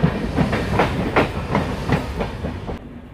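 An old MEMU local train clatters past close by, its wheels beating a steady clickety-clack of regular knocks over rail joints under a constant rumbling rush that cuts off abruptly near the end.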